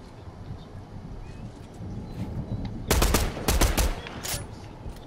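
Gunfire in Fortnite rings out in a tight burst of several sharp, loud shots around the three-to-four-second mark, following a quieter stretch of muffled game ambience.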